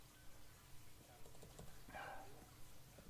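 Quiet typing on a computer keyboard, a light patter of key taps heard faintly and close, with a soft background hum and no talk.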